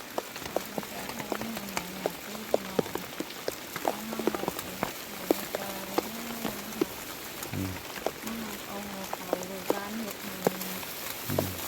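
Rain falling outdoors, a soft continuous patter with scattered drip taps, faint and steady beneath a person speaking throughout.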